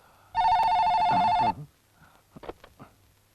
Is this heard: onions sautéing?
no